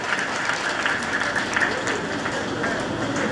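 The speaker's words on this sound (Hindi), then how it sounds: "थोड़ी तालियां हो जाए तो मोबाइल खिसे में चला जाए।" An audience at a rural gathering claps together in a brief, steady burst of hands, moderately loud and continuous, with faint voices blended in beneath.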